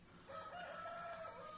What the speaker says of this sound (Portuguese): Galo cantando